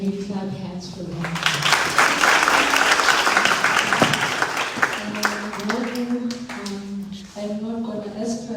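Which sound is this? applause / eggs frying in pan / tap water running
applause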